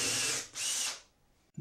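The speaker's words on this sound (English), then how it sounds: "After it gets going, I can take the guide off and finish drilling the hole." Power drill reaming a hole out to 3/4 inch: two close bursts of high whirring as the bit cuts, each lasting about half a second, then a brief clunk of the tool as it stops.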